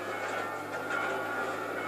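A train rumbling past in the video game GTA 5, a steady loud droning roar that holds for the whole stretch without breaks.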